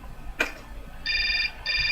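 Phone in the video game Syberia rings with two bright electronic bursts separated by a short gap, preceded by a sharp click, over a low ambient hum.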